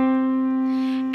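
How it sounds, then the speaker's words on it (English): A root and its fifth played together as a chord, a steady sustained pair of pitched tones held evenly and clearly for about a second with no talking. "I'm going to play the one and the five in the chord"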